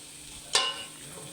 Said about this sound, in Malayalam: ഇനി ഇത് നല്ല രീതിക്ക് വഴറ്റി തക്കാളി വാട്ടിയെടുക്കാം